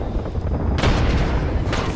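Grenade blast in the Apex Legends shooter game, a loud booming burst landing about midway and followed by another surge near the end, over a constant dense rumble of gunfire and battle noise.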